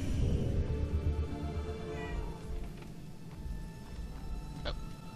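A cat in Murdered: Soul Suspect lets out a couple of brief meows over a continuous low game background hum, fairly quiet and not very close.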